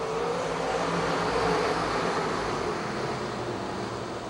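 Race cars roar around the Pennsylvania Motor Speedway oval near Pittsburgh, a steady, distant blend of engine noise without any clear pass-by.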